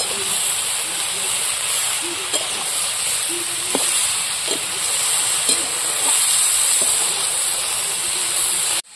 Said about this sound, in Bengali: নাড়াচাড়া দিয়ে কুচিটা ভাজা করে নেব।